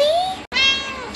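An obese adopted cat gives two loud, close meows in quick succession, the first a rising drawn-out call and the second a longer wavering one after a brief pause.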